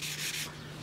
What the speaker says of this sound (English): It's just gonna be getting this drip out and then lightly sanding the rest of this.